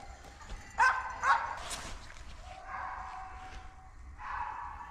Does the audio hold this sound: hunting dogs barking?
yes